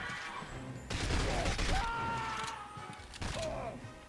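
Submachine gun fire rattles in bursts in the video game From Russia With Love, dense and loud with crashing effects, while a voice talks over the action.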